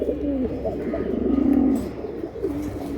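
Shining-quality Bezi pigeons coo in a steady, close series of low throaty rolls at a pigeon market, with a brief swell in the middle and faint background noise.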